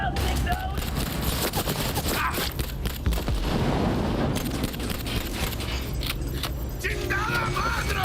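Rapid gunfire in a Cyberpunk video game roleplay, sharp repeated shots crackling throughout amid a dense game soundscape of engines and effects, with players talking over the action.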